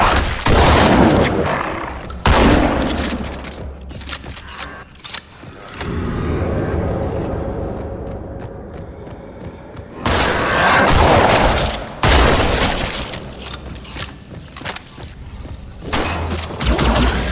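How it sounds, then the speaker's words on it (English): Heavy suppressive gunfire in Halo 2: Anniversary, with dense bursts of rapid shots and thuds in loud stretches that break into a quieter lull before pounding back in, close and sustained. "Suppressive fire!"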